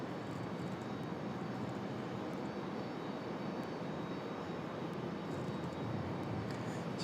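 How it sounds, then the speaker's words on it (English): An Airbus A319 arriving at Raleigh Durham airport, its engines producing a steady, broad roar that holds evenly throughout, heard from a spotting position near the runway. "So it should be a good arrival for this A319."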